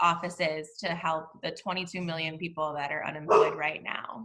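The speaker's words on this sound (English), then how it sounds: "Sorry about the dogs, y'all." Dogs bark in the background during an online staff meeting, several barks scattered beneath continuous close speech from one person talking throughout.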